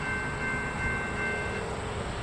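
SEPTA train 5219 rumbles steadily through the Lower State Road grade crossing, with a sustained tonal horn blast riding over the continuous loud wheel and engine roar throughout.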